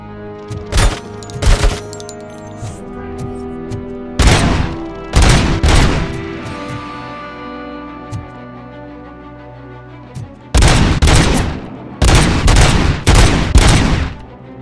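A heavy gun in the video game RoboCop Rogue City fires in loud, close bursts of rapid shots, three separate volleys with quiet gaps between them, the last burst the longest.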